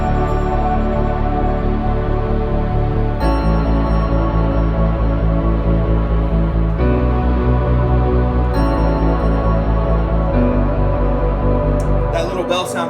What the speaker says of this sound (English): The chorus adds some little bells and whistles and some strings